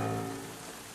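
Wind-driven rain at night in a Sherlock Holmes adventure game, a soft steady patter and hiss of rainfall, quiet and alone for a brief moment.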